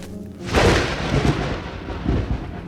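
A sudden loud crack of thunder bursts in, followed by deep rolling rumbles that swell and fade over a few seconds, with no voices.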